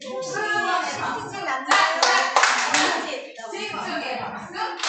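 A conference audience claps together in a rhythmic group pattern, with crisp bursts of many hands striking in time, and a voice speaking between the claps.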